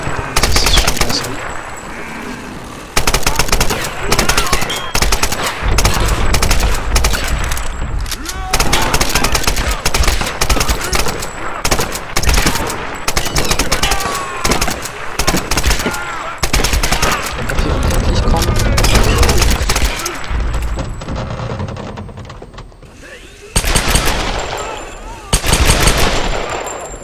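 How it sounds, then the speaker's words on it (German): Machine gun fire in Tomb Raider, loud rapid automatic bursts that run almost continuously, broken by brief pauses and a final pair of volleys, with a voice talking underneath at times. "da ist mal wieder eine MG"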